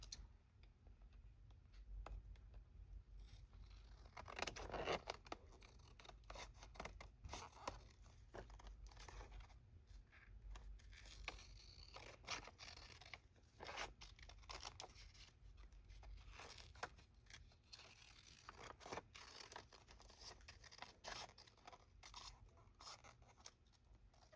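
Repeated snipping of scissors cutting while making Christmas ornaments, crisp clicks spread irregularly over a long stretch with quiet handling noise between, close and fairly soft.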